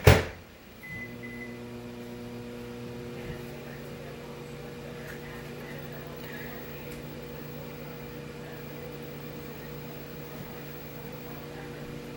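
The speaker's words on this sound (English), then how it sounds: "you microwave it for, I think it's about 45 seconds" A microwave oven hums steadily while toasting bread crumbs, a low droning tone with a faint fan whir that starts after a brief thump and continues evenly for about twelve seconds, close and unaccompanied by talk.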